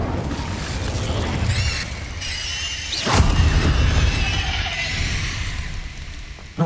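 Incendio fire spell cast in Hogwarts Legacy, a sharp flaring burst that erupts mid-clip and roars on through continuous game ambience, with a smaller pop right at the end.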